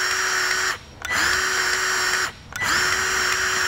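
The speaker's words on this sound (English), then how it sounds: "I got this grease gun on high" A powered grease gun running on high while packing a bearing through a grease fitting gives a loud, steady motor whine in two long bursts, each cut off by a short pause.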